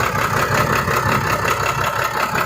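A six-cylinder diesel engine in a FAW ten-wheeler truck fitted with an HHO kit runs at a steady, loud idle, with an even, pulsing drone heard close by.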